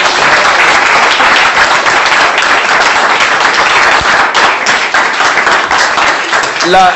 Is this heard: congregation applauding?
yes